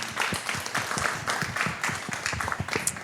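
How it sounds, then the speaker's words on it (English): A small audience at a music producers' event applauds a speaker, the claps close and distinct, some individual hands standing out in a brief, uneven burst. "A round of applause for him, please."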